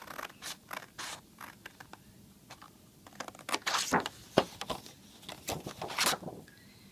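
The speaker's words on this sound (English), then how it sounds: "I'm actually going to cut off from here down to the second line right here" Scissors cutting a paper notecard, a series of faint, crisp snips and scratchy slices, close and quiet, with a brief cluster of louder cuts partway through.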